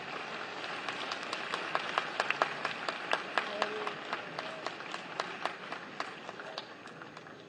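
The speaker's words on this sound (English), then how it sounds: "May we have a huge round of applause for sir." An audience at the International Conference of Chief Justices of the World applauds a speaker, a dense and steady wash of many hands clapping with sharper individual claps standing out, sustained for the whole stretch.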